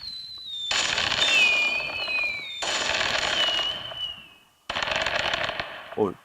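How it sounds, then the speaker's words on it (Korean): A small firework-style effect goes off in a middle-school chemistry class demonstration using potassium nitrate, giving three bursts of crackling, hissing sparks with brief pauses between them, close and moderately loud, while a high whistle-like tone glides through. "이러면 이제 불꽃이 나오는 거예요"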